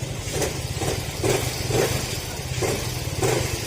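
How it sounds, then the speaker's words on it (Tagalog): A motorcycle engine idles with a steady low throb and loose metallic rattling, the engine hot and smoky with an unsteady run, heard close and continuous with no talk. "mausok kapag ka mainit na yung makina tapos makalansing na rin yung makina."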